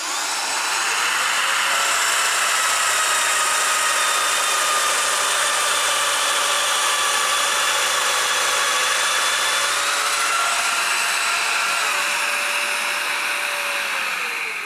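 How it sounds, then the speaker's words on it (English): Woodworking milling machine boring a hole for a table leg, a loud steady high whine with sustained tones that hold for most of the run and shift slightly partway through, alone without talk. "The depth is set and ready to mill."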